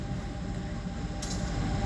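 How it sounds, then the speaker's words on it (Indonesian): A local passenger train rumbles low and steady as it slows to a stop in Bandung, Indonesia, wheels droning on the rails with a brief metallic squeal near the end. "Kereta berhenti dengan sempurna."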